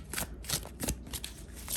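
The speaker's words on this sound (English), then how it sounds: "Let me shuffle this really quickly too" Inner Child Oracle tarot-style cards being shuffled by hand, a close series of soft, papery riffling bursts repeating in quick irregular succession with no talking.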